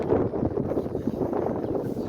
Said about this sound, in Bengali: এখন প্রচন্ড হাওয়া, এই দেখ উড়ে যাচ্ছি